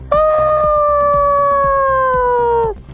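A human voice imitates a small dog's drawn-out whine or howl, one sustained high-pitched note lasting over two seconds, close and loud.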